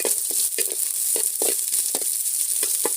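Onion, mustard seeds and curry leaves frying in a pan give a soft continuous sizzle with small popping crackles scattered irregularly, close and alone.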